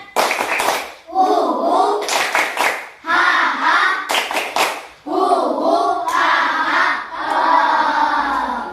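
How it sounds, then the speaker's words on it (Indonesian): A class performs the Tepuk Indian clapping chant, loud bursts of rhythmic group clapping alternating with children's chanted calls in repeating phrases, close and energetic. "Tepuk Indian."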